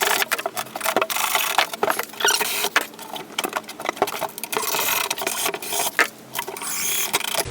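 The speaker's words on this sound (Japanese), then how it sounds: "今一人で手が足らないので、クランプで仮で留めておきます。" A clamp is fitted by hand to temporarily hold wooden back and floor panels together while a slide-out for a small camper van is assembled. Quick, close ratcheting clicks and light wooden knocks rattle irregularly throughout, with no voices.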